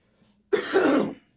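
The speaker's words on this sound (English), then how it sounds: "clearing my throat here" A man clears his throat once in a short, rough rasp about half a second long, close to the microphone in a quiet podcast room, with no talk around it.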